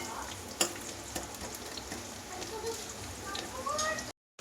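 Onions sautéing golden in a pan for fish curry, a soft steady sizzle with occasional stirring clicks, close but quiet, cutting off abruptly at the end.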